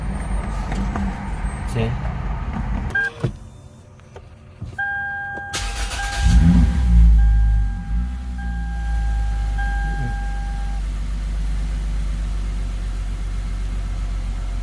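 Lexus IS350 engine idling low at around 400 to 500 RPM with a throttle idle fault, a deep steady rumble that swells briefly and then settles into a constant drone, with a short spoken word early on.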